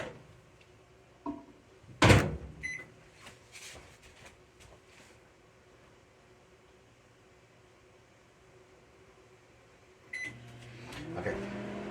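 Microwave oven heating a cup of tap water, with a loud clunk of the door at the start, a low steady hum through the middle, then more clatter and beeping near the end.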